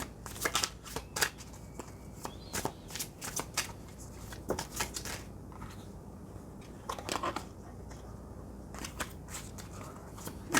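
Oracle cards being shuffled by hand for a tarot-style reading, with a run of crisp, fast riffling bursts in irregular clusters, close and fairly quiet, with no voice over them.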